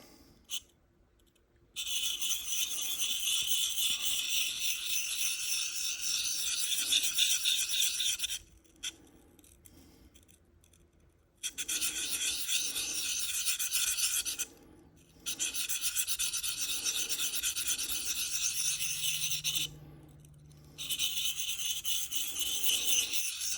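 A knife blade is drawn across a Sharpal field sharpener in long steady rasping strokes, close and fairly quiet, broken by short pauses between passes and with no talking.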